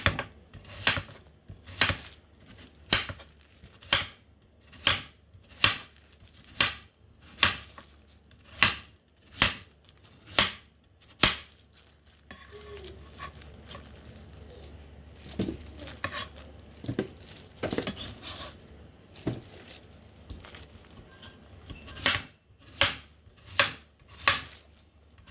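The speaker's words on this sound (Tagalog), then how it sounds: "hiwain rin natin yung yam" A knife chops yam on a cutting board for yam and chestnut soup. The strokes are steady, rhythmic and close, break into a softer, irregular stretch of cutting, then pick up the quick regular chopping again, with no talking.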